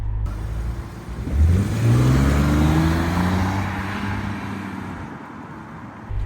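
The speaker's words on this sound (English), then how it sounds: "it has that nice little growl. The engine just sounds proper without being too loud" A 2004 BMW 330Ci E46 convertible's engine growls and rises as it accelerates, a steady mid-pitched drone that swells after the first second and then holds at a moderate level with no talking.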